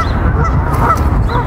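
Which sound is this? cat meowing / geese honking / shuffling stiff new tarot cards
geese honking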